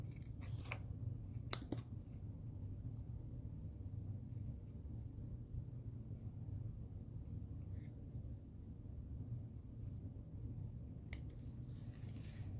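Scissors make a few quick, crisp snips on paper during card making with Stampin' Up! supplies: a short cluster near the start, then a single cut near the end, with a faint quiet hum in between.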